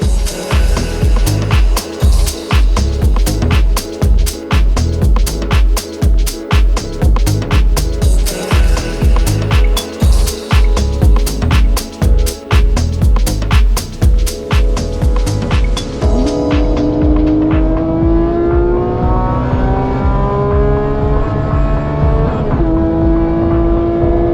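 A loud Porsche 991 GT3 Cup EVO race car engine revs hard through rapid gear changes, then settles into a steady climbing drone as it keeps accelerating at night on Osaka's loop expressway in Japan, heard from inside.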